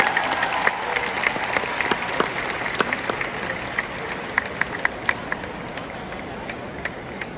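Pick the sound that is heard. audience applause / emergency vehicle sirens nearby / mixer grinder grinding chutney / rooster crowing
audience applause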